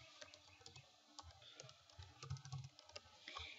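Someone types a message on a computer keyboard, with quiet, irregular clicking keystrokes coming in quick bursts and short pauses, close and soft.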